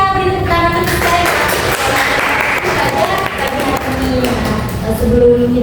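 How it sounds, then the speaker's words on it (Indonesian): Students in a classroom clap together in a steady burst of applause lasting several seconds, with voices audible underneath. "beri tepuk tangan untuk saya"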